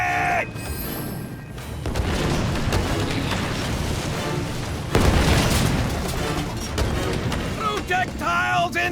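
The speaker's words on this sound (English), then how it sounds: "Incoming artillery!" Incoming artillery pounds the scene in Epic Mickey 2: The Power of Two, heavy booming explosions and crashing debris forming a dense, loud roar, with a stronger blast near the middle.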